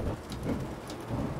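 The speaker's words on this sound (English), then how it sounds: "Minis in the rain at the Nürburgring." Rain in the Automobilista 2 racing game at the Nürburgring during a Mini Cooper race, a steady wash of falling rain with low rumbling swells like distant thunder, alone at moderate level.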